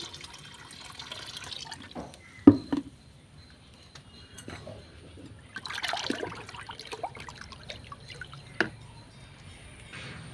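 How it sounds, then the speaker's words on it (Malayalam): Plain water is poured into fermented rice water, giving intermittent splashes and trickles near the vessel, with a few louder pours between quieter stretches. "ഇനി നമുക്കിതിലേക്ക് എത്ര കഞ്ഞിവെള്ളമാണോ അത്രയും പച്ചവെള്ളം കൂടി ഒഴിക്കുന്നത്"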